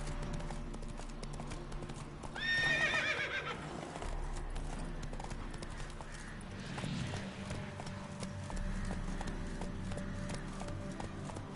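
Roach, a horse in a Witcher video game, gallops with rapid, rhythmic hoofbeats and gives one loud neigh early on, with the galloping going on under game ambience.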